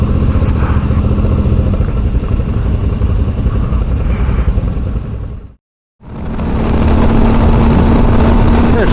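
Motorcycles of an adventure riding group roll into a parking lot at Halls Gap, a loud, steady engine drone close by that cuts out abruptly for a moment, then resumes just as loud.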